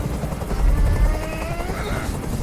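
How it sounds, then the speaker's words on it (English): A loud, steady helicopter rotor drone in the video game Detroit: Become Human fills the whole stretch, thumping low and constant with a faint rising whine above it. "Tell that helicopter to get out of here!"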